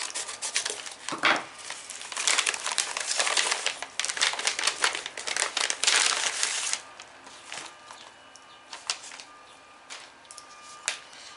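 A package being opened with paper crinkling and rustling loudly up close for several seconds, then quieter intermittent crackles and handling noises.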